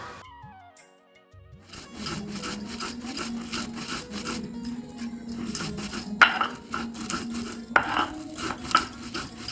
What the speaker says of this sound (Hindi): उसके बाद इन मसालों को अच्छे से पीसना है सिलबट्टे पर।